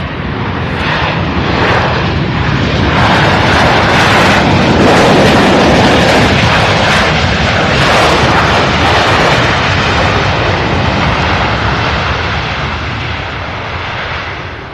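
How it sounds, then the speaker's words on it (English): A six-year-old Boeing 737-800 jet airliner arriving at Louisville airport after a flight from Houston, heard as a loud, broad, sustained jet roar that swells mid-pass and slowly fades, with no talking. "this one here, 6-year-old Boeing 737-800 arriving from Houston, Texas, after a 1 hour and 47-minute flight"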